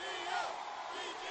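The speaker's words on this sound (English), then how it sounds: "The crowd screaming" A crowd at a Houston Astros victory parade screaming and chanting, a dense roaring mass of voices with rising shouts, heard from a distance and fairly faint.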